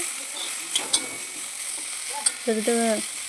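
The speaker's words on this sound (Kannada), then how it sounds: "ಜೀರಿಗೆ ಕರಿಬೇವು ಕೊತ್ತಂಬರಿ ಹಸಿಮೆಣ್ಸಿಗೆ ಎಲ್ಲ ಇದನ್ನ ಸ್ವಲ್ಪ ಎಣ್ಣೆ ಹಾಕ್ಕೊಂಡು ಚೆನ್ನಾಗಿ ಸ್ವಲ್ಪ ಫ್ರೈ ಮಾಡ್ಕೊತೀನಿ" Cumin, curry leaves, coriander and green chillies fry in oil with a light, close sizzle, broken by a few clicks and a short tonal squeak near the end, all brief and fairly quiet.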